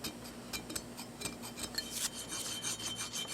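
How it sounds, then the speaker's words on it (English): A round wood rasp scrapes across carved limestone on a fireplace mantel bracket, a quiet sequence of rapid rough rasping strokes with short gritty bursts, close and alone. "This is a file. It's probably a wood rasp, and it's round."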